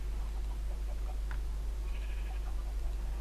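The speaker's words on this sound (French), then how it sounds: "on va nourrir ces moutons" Sheep bleat in a farming video game, a couple of short, thin bleats standing out faintly over a constant low hum and background game noise.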